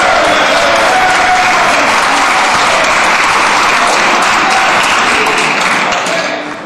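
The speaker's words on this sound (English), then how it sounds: "Perhaps the House could keep the standing ovations down to a bare minimum." Loud, sustained applause fills the House of Commons of Canada during a standing ovation at Question Period, a dense wash of clapping that fades slightly at the end.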